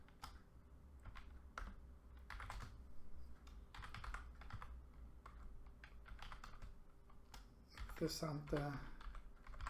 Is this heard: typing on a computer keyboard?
yes